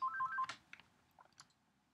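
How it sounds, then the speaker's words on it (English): A phone rings briefly with a quick run of short, quiet electronic tones, followed by a few faint clicks in an otherwise silent room. "phone ringing"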